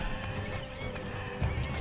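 Donkeys braying and whinnying in a game, a continuous harsh animal noise over background rumble with a louder burst near the end.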